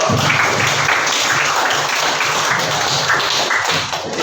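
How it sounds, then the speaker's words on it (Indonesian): A classroom of students clapping together in sustained, dense applause that continues evenly for several seconds before tapering slightly at the end. "yuk kita tepuk tangan buat bersama, yuk"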